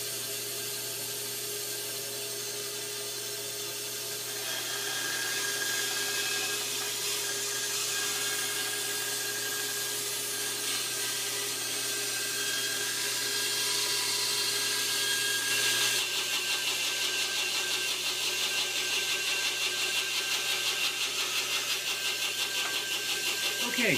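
A power tool cutting and sanding wooden birdhouse parts, a continuous loud whirring grind that grows stronger after a few seconds and holds steady without talk.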